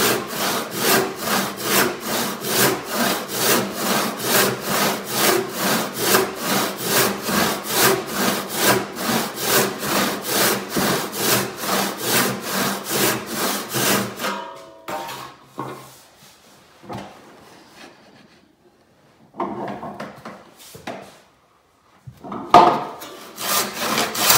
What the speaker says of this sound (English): So now I'm going to start over on this side and rip down this part of the board.